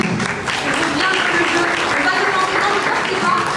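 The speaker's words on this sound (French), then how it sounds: "On peut tous les applaudir." Audience in a university hall in Nîmes applauds young party representatives after a political debate, a full, sustained wash of clapping from the crowd with a few voices faintly beneath.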